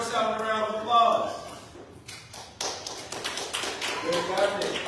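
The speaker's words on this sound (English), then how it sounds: "let's give ourselves a round of applause" A council retreat group gives a short round of applause, scattered claps and taps rising briefly amid ongoing talk in the room.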